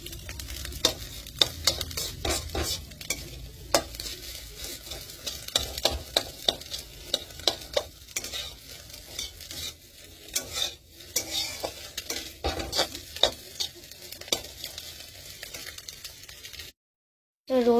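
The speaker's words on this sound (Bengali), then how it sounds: "এই যে পেঁয়াজ আর এটা বিনসটা ভাজা হয়ে গেছে, এখানে গাজরটাও ভাজা হয়ে গেছে।" Onion, beans and carrot are stir-fried in a pan at home, with a steady sizzle under repeated sharp scrapes and clinks of a metal spatula against the pan, ending in a brief silence.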